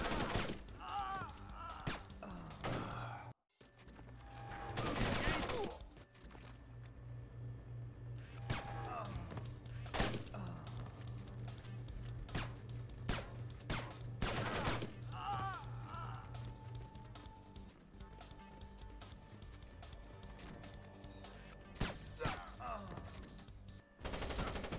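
Gunfire from the Splinter Cell video game rings out in repeated bursts and single shots over a steady game soundtrack hum, with mechanical clicks between the shots and a voice speaking briefly.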